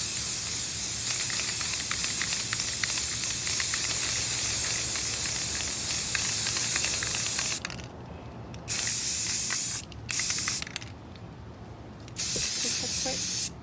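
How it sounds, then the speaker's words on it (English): Rust-Oleum Gloss White spray paint hissing onto an epoxy tumbler, a long continuous close spray followed by several short bursts with brief pauses between. "Now you're ready for spray paint, and I'm going to be painting mine white first."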